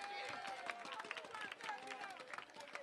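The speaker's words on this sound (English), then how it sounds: "Comrades, let's give Comrade Ricky Skerrit a round of applause." A crowd at an outdoor political gathering for Ricky Skerrit breaks into sustained applause, a dense patter of many hands with cheering voices mixed in, heard at a moderate distance.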